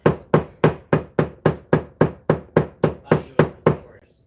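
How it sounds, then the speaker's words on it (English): A hammer pounds a craft piece flat with about thirteen evenly spaced, loud, close blows in a steady rhythm before stopping. "I'm going to hammer it"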